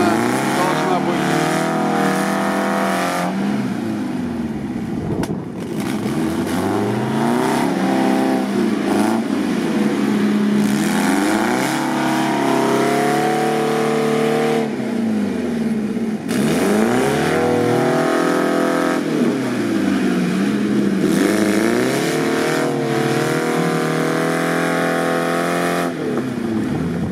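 Off-road vehicles driving across a peat bog, engines revving hard and then easing off in repeated loud surges, with a steady drone and people talking over it.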